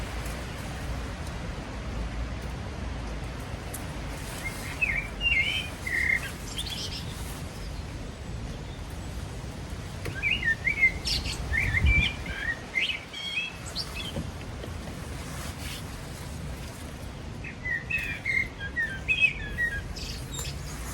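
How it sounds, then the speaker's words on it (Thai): Birds chirp and call in scattered bursts over steady outdoor background hiss in a garden with a red currant tree, the calls moderately close and recurring several times across the stretch. "เสียงนกเสียงกา"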